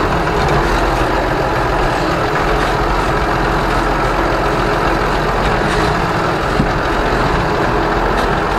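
An Ursus 1224 tractor pulling heavy harrows runs at low revs with a steady, loud diesel rumble, close and continuous with no talking.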